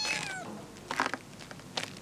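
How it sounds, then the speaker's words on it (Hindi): A cat meows at close range: one long, drawn-out meow opens, then two shorter meows follow after a pause, set in an old Delhi home in a Mirza Ghalib period film. "ये नया शौक क्या पाल लिया मिर्जा, बिल्लियों का?"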